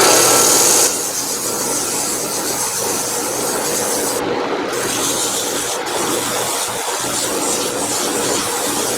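Steady, continuous abrasive rubbing as 80 grit sandpaper works a small live edge cherry wood bowl, close and fairly loud, running without pause and with no talk.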